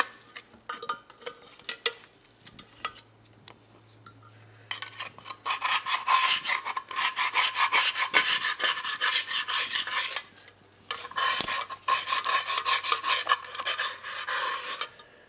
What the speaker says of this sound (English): It looks like I can scrape more with the pot scraper.